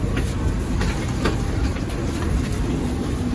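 Constant loud rumble inside the economy premium carriage of the Malabar passenger train in Indonesia, with faint rhythmic clicks over the rails and a continuous high whine above the low drone.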